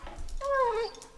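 A small dog lets out a brief, high whimpering whine, rising then falling, close by and fairly quiet.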